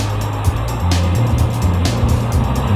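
Electric motor of a Hurricane Sonic RC drift car whining steadily as it drifts, loud and close with tire scuffs and brief surges, no talking.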